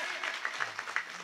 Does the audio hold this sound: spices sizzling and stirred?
no